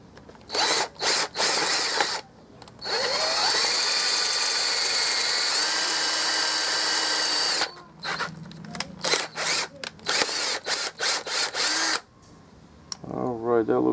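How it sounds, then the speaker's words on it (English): A power drill whirs in short bursts, then runs steadily for several seconds before stopping and starting again in brief pulses, close and loud, drilling into a Harbor Freight 20 oz gravity-feed sandblast gun. "And I'm gonna drill in the gun right here too."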